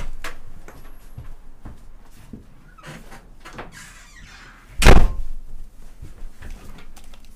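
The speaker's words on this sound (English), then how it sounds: "I'm going to shut my door quickly" A base door slams shut in the survival game Last Day on Earth: Survival: a single loud, sharp bang near the middle, preceded by quieter clicks and shuffling game sounds.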